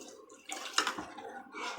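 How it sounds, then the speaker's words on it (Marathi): Water poured from a vessel into a simmering curry with peanut powder, a short splashing trickle of about a second, close and fairly quiet. "आता थोडंसं पाणी टाकते याच्या"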